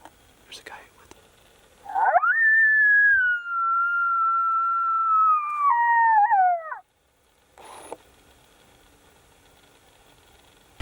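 A single coyote howl during a Wyoming predator-calling hunt, a long rising then slowly falling wavering tone lasting about five seconds, distinct against quiet surroundings, with soft whispered talk before and after.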